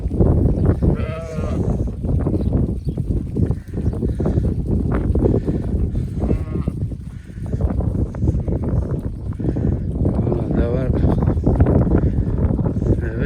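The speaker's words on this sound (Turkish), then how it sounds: "Böyle etli koyunlar." Many sheep bleat over one another in a crowded flock, a continuous overlapping chorus of calls, loud and close, with shuffling noise beneath.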